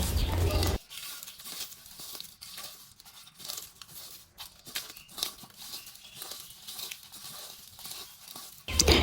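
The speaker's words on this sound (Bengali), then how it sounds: "শুকনো মরিচ এবং রসুন লবণ দিয়ে ভালো করে হাত দিয়ে ডলে নেব" Dried chillies, garlic and salt being mashed and rubbed together by hand, giving soft crinkling, crunching and tearing textures at close range, with louder bursts at the very start and end.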